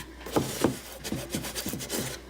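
Fingertips press and rub vinyl down onto a wooden box, making short, soft, close rubbing and squeaking strokes in a quiet room.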